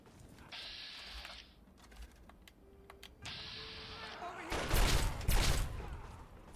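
A laser rifle fires in the Fallout 3 video game, with several whining energy bursts followed by a louder cluster of shots near the end over game ambience and background sounds.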